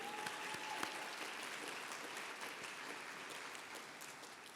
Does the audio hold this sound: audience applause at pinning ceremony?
yes